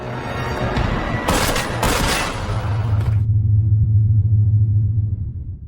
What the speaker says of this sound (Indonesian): orang yang menembak Paijo adalah Fukami